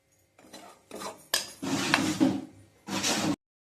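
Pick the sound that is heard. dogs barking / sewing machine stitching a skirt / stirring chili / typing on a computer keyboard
stirring chili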